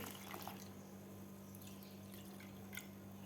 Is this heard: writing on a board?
no